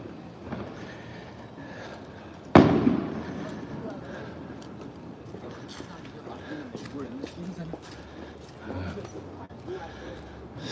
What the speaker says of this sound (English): I'm heading towards the fireworks that I think are going to be on 6th Street.